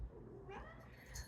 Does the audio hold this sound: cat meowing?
yes